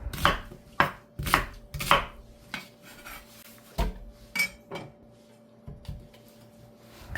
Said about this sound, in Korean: 양파 반 개도 깍둑 썰기로 해서 갈아줄 거예요